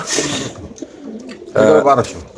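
Racer pigeons coo inside market cages in a few soft, throaty bursts, with a louder one near the end, while someone talks over them.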